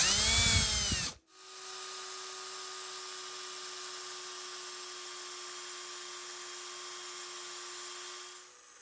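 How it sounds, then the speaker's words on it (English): After a brief loud rumble, an angle grinder with a flap disc runs at a steady high-pitched whir, close and constant for several seconds before cutting off. "I have my angle grinder here with a flapper disc"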